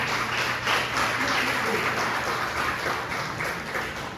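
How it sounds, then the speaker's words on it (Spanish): Congregation in a Spanish-language church service gives a strong round of applause to the Lord, heard as continuous, dense clapping from many hands throughout, moderately loud and slightly roomy, with no speech over it. "Dale un fuerte aplauso al Señor, hermano."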